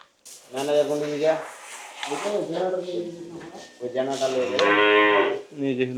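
Several loud, drawn-out moos from cattle close by, one after another with brief pauses between calls.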